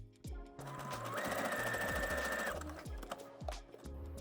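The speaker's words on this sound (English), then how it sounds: "take a zigzag stitch through all of the layers" A home sewing machine running a zigzag stitch through layers of 6mm elastic on a lingerie underwire bra, a close rapid whir with a rising start and a brief pause, with a few soft handling clicks around it.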